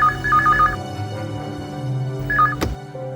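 A telephone ring tone for an outgoing call gives two short warbling bursts, one at the start and another near the end, over a steady low background hum.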